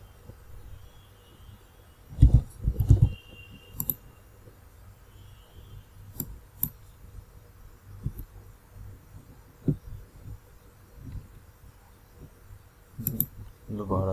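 A computer mouse gives sparse, quiet clicks alongside a few short bursts of keyboard tapping in a hushed room, with low hum beneath.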